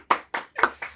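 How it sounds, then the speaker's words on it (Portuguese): Four separate hand claps in quick succession, close and fairly loud, as a small audience applauds a guest speaker being introduced; no voices over them. "Uma salva de palmas."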